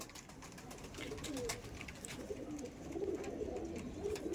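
Madrasi pigeons at a home loft coo in soft, low, rolling calls, faint and repeated, with light clicks and rustles scattered around them.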